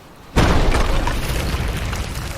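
A flamethrower in Fallout 76 burns through a wall: after a quiet moment, a loud roaring blast bursts in suddenly and holds steady as a broad, rushing roar.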